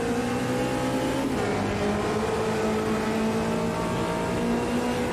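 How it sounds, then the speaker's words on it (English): A Lotus race car with a Coventry Climax engine in Automobilista 2, its engine droning loud and close with steady harmonic tones that shift pitch once as it changes gear, then holding an even whine. "I believe it's a Coventry Climax engine in this Lotus."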